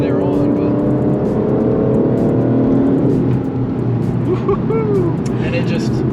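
Deep V12 engine of an Aston Martin DBS Superleggera revving, a loud steady drone with rising and falling pitch that continues under someone talking.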